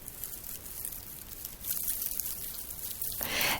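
Homemade scale armour rattles in a soft, continuous patter like rainfall, close and fairly quiet, growing brighter and louder toward the end.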